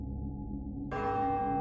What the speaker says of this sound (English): the church clock began to strike midnight